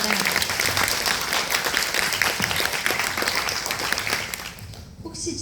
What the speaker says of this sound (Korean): 여러분, 우리 회장님께 뜨거운 박수 부탁드리겠습니다